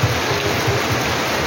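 Steady rain falls on a quiet, still neighbourhood in a dense, continuous wash that stays loud and even throughout, with no voices.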